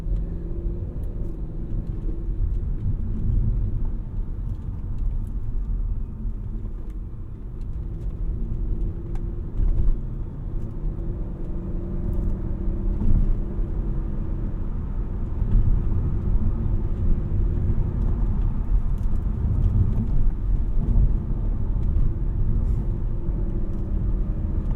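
A 2003 Audi S8 V8 engine hums at low revs while driving, a steady, muffled cabin rumble with gentle swells in load and no talking over it.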